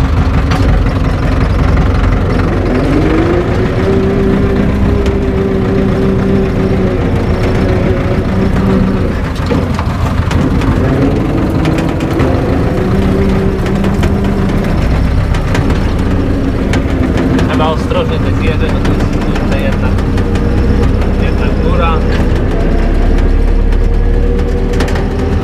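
A tractor engine runs steadily while pulling a trailer home after the 2018 harvest, a loud, close, low drone with rising and falling pitch as it works, and no talk over it.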